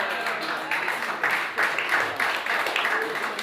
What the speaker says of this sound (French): Si vous êtes dans la joie, donnez au Seigneur une belle acclamation.